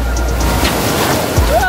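Ocean waves breaking on the beach at Cox's Bazar, a loud close surf wash with wind rumble on the microphone and voices talking and calling over it.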